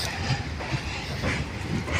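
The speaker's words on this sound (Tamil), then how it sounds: "ட்ரெயின் ட்ரெயின் போகுது நண்பா" A train passes on a railway track near a drainage pipe by a fishing spot, giving a steady, dense rumble with faint rhythmic clatter, moderately distant and continuous, no voices.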